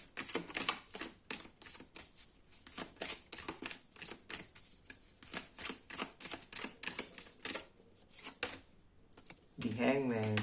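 Tarot cards are shuffled by hand in a fast, rhythmic series of crisp riffling bursts, close and fairly quiet, ending with a brief spoken voice.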